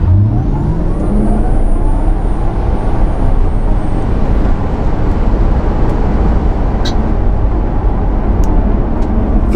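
A Tesla Model 3 Performance, lightened by nine pounds per corner, accelerates hard on an open road, giving a loud, steady electric whir with rushing wind and road roar that holds right through, with no talking.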